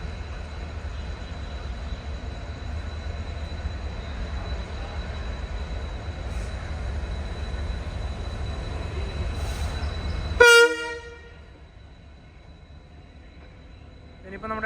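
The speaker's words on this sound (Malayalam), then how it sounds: "WDP 4D അതാണ് ഇനിയിപ്പോൾ നമുക്ക് പോകാനുള്ള ട്രെയിനിൻ്റെ ലോക്കോമോട്ടീവ്." A WDP 4D diesel locomotive for a Mysuru to Chamarajanagar passenger train idles with a steady low rumble, then sounds a short loud horn blast before the noise drops to a quieter hum.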